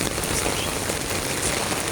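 Heavy rain pours down near a swollen river control channel and lake, a thick, even roar of drops hitting surfaces that stays constant for the whole moment.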